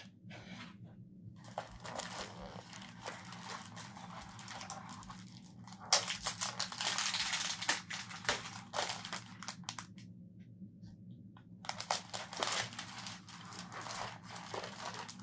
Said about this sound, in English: So first thing I need to do, I guess, is to cut these apart.